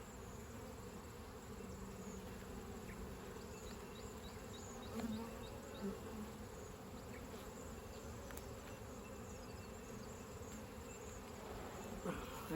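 Honeybees buzzing at an open hive during a beekeeping inspection, a dense continuous hum of many wings close by, steady throughout with small bumps of handling noise.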